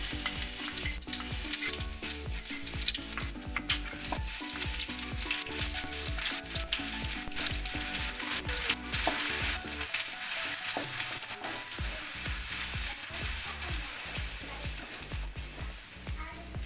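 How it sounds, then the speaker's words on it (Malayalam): Ginger garlic paste frying and sizzling in hot coconut oil with popped mustard seeds, with steady crackling and intermittent stirring scrapes, close and continuous with no talk. "ഇഞ്ചി വെളുത്തുള്ളി പേസ്റ്റ് ഇട്ട് കൊടുക്കാം"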